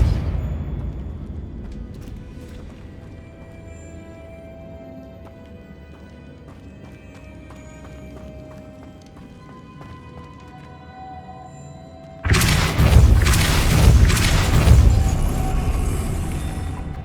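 A Depulso spell blasts in Hogwarts Legacy: after a long stretch of low ambient tones, a sudden loud broadband whoosh and rumble bursts in and carries on for several seconds, with no voices.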